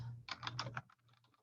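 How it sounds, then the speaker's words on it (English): Computer keyboard typing during a neighborhood property search, a quick burst of close, crisp key clicks followed by softer, sparser taps. "I just hit enter on my keyboard."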